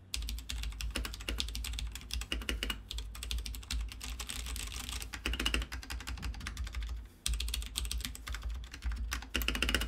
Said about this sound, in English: let's get the sound test. This one has brown switches.